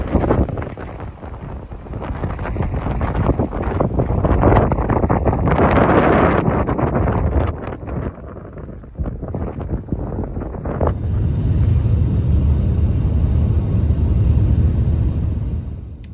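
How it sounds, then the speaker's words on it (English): Blustery wind buffets the microphone at Mammoth Hot Springs on a snowy whiteout day, loud roaring gusts that dip briefly and then settle into a lower steady rumble. "a day that is blustery and blowy, and parts of it have whiteout conditions"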